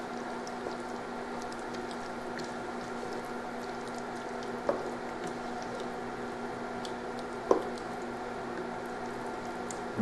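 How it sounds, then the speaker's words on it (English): Bolognese sauce with about 30 ounces of crushed tomatoes simmering in a pan, a steady soft bubbling hiss with a couple of brief louder pops, close and without talk. "Now as you simmer this sauce, it will thicken up"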